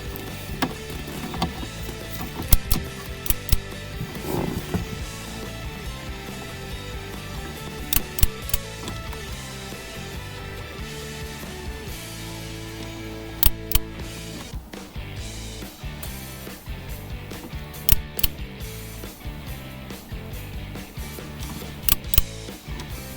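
A torque wrench tightens the steering wheel nut on a 1984-1989 C4 Corvette to 30 foot-pounds, giving scattered sharp ratcheting clicks and ticks in small clusters over a low background hum.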